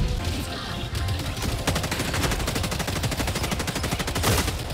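Sustained rapid automatic gunfire from Helldivers II on Malevelon Creek, a dense loud stream of shots with a few heavier bursts, close and continuous with no talking.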